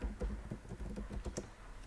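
Typing on a computer keyboard while writing a paragraph in Microsoft Word 2016, with soft, irregular clacking keystrokes at a quiet level and no voices.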